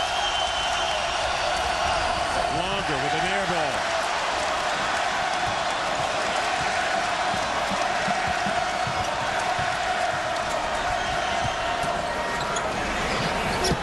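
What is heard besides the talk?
basketball arena crowd cheering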